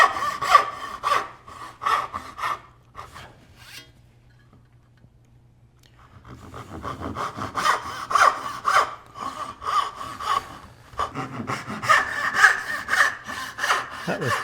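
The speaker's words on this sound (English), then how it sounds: "Set my saw on the kerf and finish that cut." A hand saw cuts a dovetail in wood, rasping in quick back-and-forth strokes close by. The sawing pauses partway, then picks up again.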